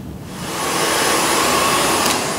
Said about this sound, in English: Alright, grab a hairdryer.